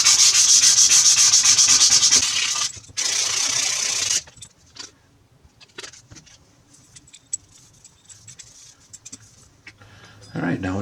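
Sandpaper of 320 grit rubbed hard against an aluminum junction box, loud close scratchy strokes in two long bursts, then quieter scattered handling noises and a final short rub.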